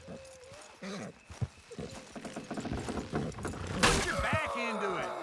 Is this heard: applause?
no